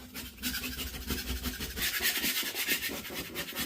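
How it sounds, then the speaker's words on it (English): Steady rasping scrapes of excess joint compound being pulled off a bathroom wall, close and continuous over a few seconds with no talk. "I'm using this to actually scrape the excess off in some ways"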